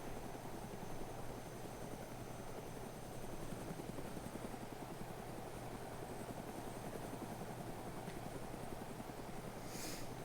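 Helicopter in the video game DayZ, flying low and unable to climb, a steady loud rotor drone with dense chopping filling the whole stretch, no voices over it.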